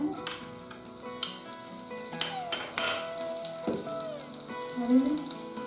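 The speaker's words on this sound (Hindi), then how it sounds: "अब इसमें लहसुन डालेंगे।" Garlic dropped into hot oil already holding cumin and asafoetida sizzles and crackles steadily, with a few stirring scrapes and utensil clinks, while a Rajasthani mixed-dal tadka is being made.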